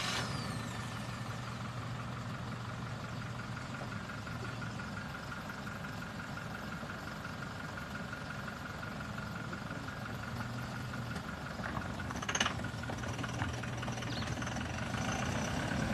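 Truck engine idling and rumbling steadily at a moderate distance outdoors in Bethlehem, Free State, with a brief hiss like an air brake partway through and no voices.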